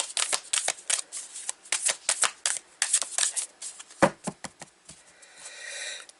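Ancient oracle stones shuffled by hand, a rapid run of close, dry clicking and clattering bursts that pause and restart, with a softer continuous rattle at the end; no talking.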